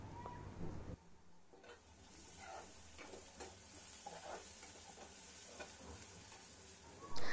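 Chopped onion with a little salt sautéing in oil in a pan, a quiet continuous sizzle with intermittent stirring scrapes of a spatula, close and low in level, no talk.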